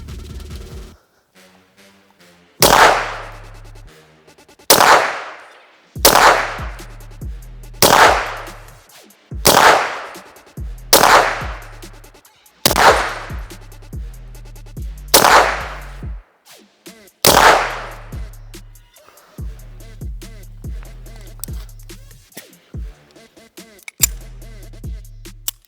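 Suppressed shots from a Vintorez rifle fitted with a moderator, firing supersonic rounds: about a dozen sharp, loud reports spaced one to two seconds apart, each with a short decaying tail and mechanical clatter between.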